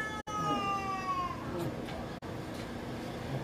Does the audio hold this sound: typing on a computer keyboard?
no